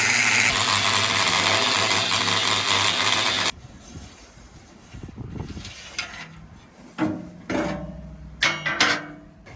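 Power tool cutting through a broken, dented metal bulkhead on a dumper during a rotovator refit: a loud, steady grinding-cutting roar for several seconds stops abruptly, followed by quieter scraping, clanks and metallic knocks.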